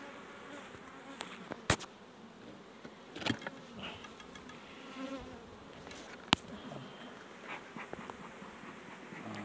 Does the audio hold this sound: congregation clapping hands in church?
no